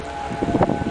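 Storm warning siren sounding from a tower in Clyde on a stormy June night, a sustained steady drone heard from a distance with gusty wind rumbling beneath it.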